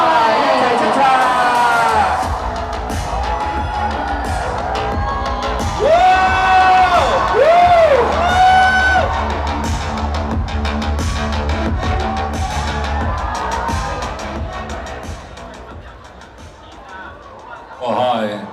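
Loud crowd cheering, whooping and applause at a Hong Kong Comic Con stage event as guests are welcomed on, a sustained roar across the whole stretch that swells midway and fades slightly near the end.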